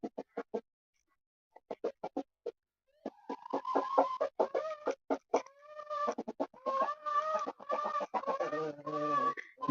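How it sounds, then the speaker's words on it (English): Chickens clucking and chattering, first in short sparse bursts after a brief pause, then a dense, busy run of overlapping clucks and squawks close by. "Yep, chicken chatter."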